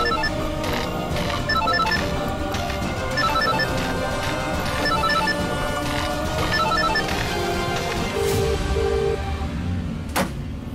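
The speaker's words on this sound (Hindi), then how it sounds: "रिंग बज रही है।" A phone rings in repeated short bursts of bright electronic trilling with small gaps between them, heard over a dense background of music or ambient noise, with a sharp knock near the end.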